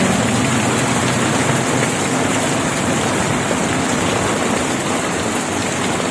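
Heavy rainfall pours down as a loud, dense, steady hiss filling the whole stretch, close and unbroken, with no voices.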